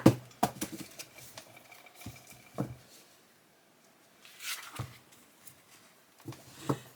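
Thick tarot card deck being shuffled, soft scattered taps, slides and rustles in irregular bursts with quiet pauses between them, close and faint.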